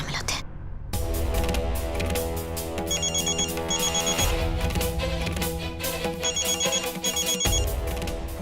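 A telephone rings in repeated electronic trills over a dramatic music bed in a Hindi TV drama scene, the double ring bursts recurring at regular intervals.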